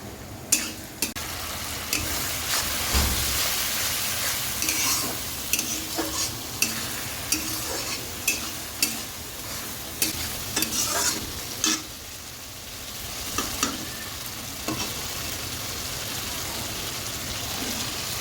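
Onions fry with a steady sizzle in a pan while a spoon stirs and scrapes at intervals, producing sharp clicks over the continuous hiss; no voices, close and fairly loud.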